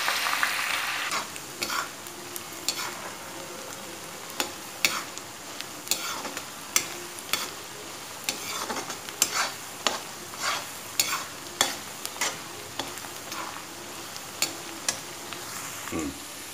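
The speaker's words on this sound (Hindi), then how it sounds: "इसको अच्छी तरह बिल्कुल ट्रांसपेरेंट हो जाने तक हमको इसको इस तरह से भूनना आएगा" Finely chopped onions with fennel and nigella seeds sauté in a pan for stuffed bitter gourd, a continuous sizzle punctuated by regular spoon scrapes and taps against the pan throughout.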